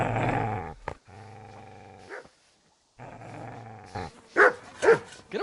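A dog growls and barks in the medieval role-playing game Kingdom Come: Deliverance, with a deep rumbling growl followed by a couple of sharp, loud barks after a short pause.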